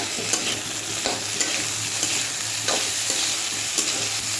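Ginger garlic paste dropped into a pan of lightly browned frying potatoes, a dense continuous sizzle with periodic stirring scrapes and small clicks, close and fairly loud, no talking.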